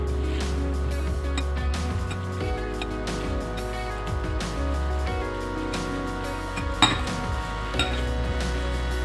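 Chopped tomato is mixed by hand with coriander, cumin and chilli powder in a metal dish, giving soft squelching and repeated clinks of utensils against the bowl, close and fairly quiet with no talk.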